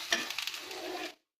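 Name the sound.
vegetables (carrots) being stirred and fried in a pan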